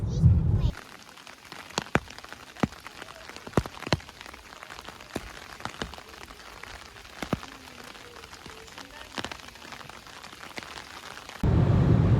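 Rain patters onto a car's roof and windshield on a trip near Gölcük National Park, with scattered sharp drops tapping over a soft steady hiss and louder thumping moments at the start and end.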